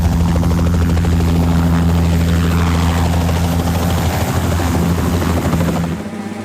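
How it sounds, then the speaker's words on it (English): A helicopter flying, its steady loud rotor drone and thumping blade rhythm filling the whole stretch before easing slightly at the very end, with no voices. "The vehicle hiding is helicopter."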